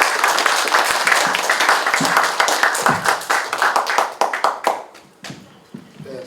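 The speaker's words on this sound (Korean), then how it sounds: "다시 한번 유주상 변호사님께 뜨거운 박수 부탁드리겠습니다" An indoor audience applauds a lawyer after his talk at a civic forum anniversary ceremony; dense, steady clapping that holds for several seconds, then thins into scattered claps as it fades.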